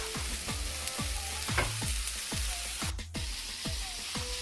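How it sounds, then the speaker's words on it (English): Onions sautéing in olive oil give a steady close sizzle and crackle, with a spoon stirring through them in repeated low scrapes and knocks roughly every half second. "We got our onions beginning to saute and become translucent"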